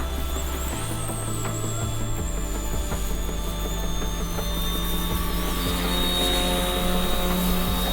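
An E190 PRO RC helicopter flies past in scale-style mode, its steady rotor and motor whine droning at a constant level throughout, with a faint pitch sweep as it passes.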